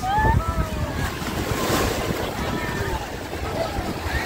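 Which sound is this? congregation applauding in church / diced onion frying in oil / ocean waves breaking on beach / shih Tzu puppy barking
ocean waves breaking on beach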